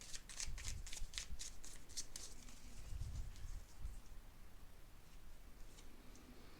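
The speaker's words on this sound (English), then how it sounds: "Let's pull some cards for your recent past." Tarot cards shuffled by hand, soft close riffling and flicking in quick bursts over a faint steady background hiss, no voice heard.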